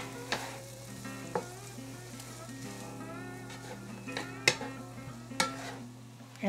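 Onion and celery sautéing in a pan, a steady close sizzle with a low hum, punctuated by several sharp clinks and scrapes of a utensil stirring.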